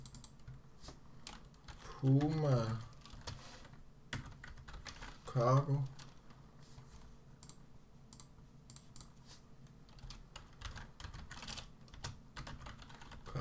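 Computer keyboard typing while setting up a mod, bursts of quick clicky keystrokes scattered through the clip, with a few short spoken words in between.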